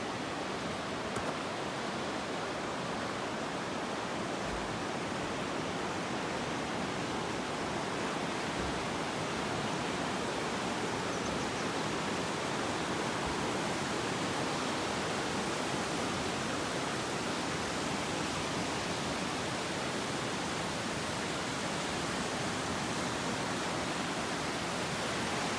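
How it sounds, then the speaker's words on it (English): Flowing water of the South Platte River, a steady broadband rush of current that stays even and unbroken from start to finish, fairly close with no voices. "And we're down at the South Platte River."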